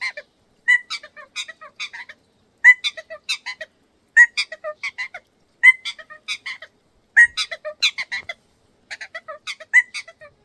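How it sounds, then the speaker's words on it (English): Native birds in a New Zealand local park sing in repeated short bursts of bright chirps and warbles, clear and fairly close against otherwise quiet surroundings. "we even found a small local park where you can listen to native birds"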